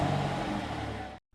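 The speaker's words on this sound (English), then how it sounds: "Listen to that exhaust." A 2023 Alfa Romeo Giulia Quadrifoglio's exhaust roars under acceleration, a loud sustained engine note that cuts off abruptly near the end.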